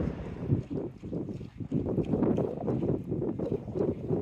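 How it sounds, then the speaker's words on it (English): Gusty wind rumbles and buffets the microphone in uneven bursts, with no voices, just the low roaring rush rising and falling. "Shame it's so windy today."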